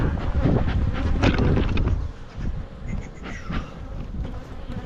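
Honey bee colonies bearding outside their hives in summer give a steady, dense insect buzz close by, with wind noise rumbling over the microphone throughout.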